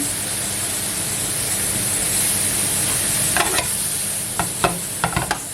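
Around 800 grams of apples caramelizing in a pan for crêpes give off a loud, steady close sizzle, broken near the end by a quick series of sharp spatula scrapes and taps.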